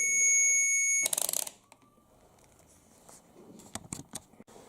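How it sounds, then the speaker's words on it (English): A continuity tester gives a steady high-pitched electronic beep for about a second, then cuts off, followed by quiet clicks and handling noises. "you can check it in all directions by listening to the little continuity beep"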